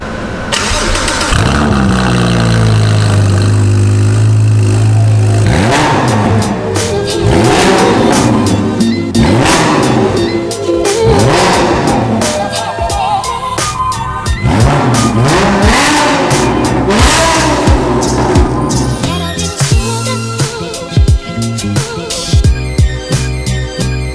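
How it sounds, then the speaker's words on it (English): A sports car fitted with a straight-through Novitec exhaust revs hard and loud, repeated sharp throttle blips and rising snarls crackling over a steady idle, close by with no talking. "straight through Novitec exhaust as well. It sounds absolutely phenomenal."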